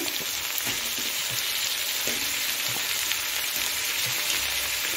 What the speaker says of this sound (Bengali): কিছুক্ষণ আমি আলু গাজরটাকে একটু ভেজে নিচ্ছি।